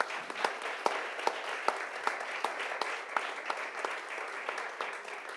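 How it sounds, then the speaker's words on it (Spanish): Applause from a live audience at an activist school event, a steady patter of many hands with sharp individual claps standing out, moderately loud and continuing throughout. "Andrés Terrile, para quien pido un fuerte aplauso."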